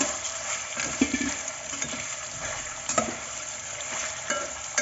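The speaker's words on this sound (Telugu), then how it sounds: "ఇప్పుడు మనం అందులోకి ఇందాక మ్యాగ్నేట్ చేసి పెట్టుకున్నటువంటి ఉప్పు కారం కలిపి పెట్టుకున్నటువంటి ఏట మాంసం వేసేసుకున్నాము" Salt-and-chili marinated goat mutton fries in oil with mustard seeds for a village-style curry, making a soft, steady sizzle with occasional stirring clinks.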